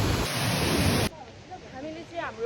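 A large stream or waterfall along a hiking trail rushes loudly and close at first, then cuts off abruptly to a quieter background with faint scattered sounds.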